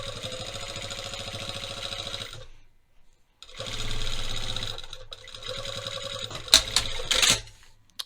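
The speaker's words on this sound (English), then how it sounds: "you are going to sew those to the bottom of this pocket bag at 1/4 of an inch seam allowance" Sewing machine stitching a quarter-inch seam on a trouser pocket bag, running in fast steady bursts with a short stop near the middle, close and loud, then a brief clatter as it halts.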